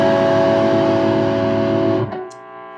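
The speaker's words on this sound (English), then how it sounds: "So what I want to do with that sound is I want to get some distortion" A sustained, buzzy electric guitar chord distorted through a Dookie pedal rings out and then is cut off, leaving a faint hum.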